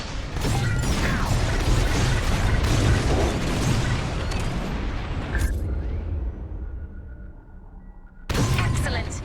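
Bombs exploding during a bombing run in Star Wars: Squadrons, heavy booming blasts and crashing rumble filling most of the stretch, a brief near-silent lull, then another loud burst of explosions.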